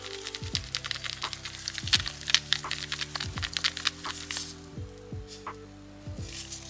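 Pink glitter gel nail polish is stirred in its small pot, giving a series of close, sticky crackling and squishing clicks in irregular bursts, with no talking.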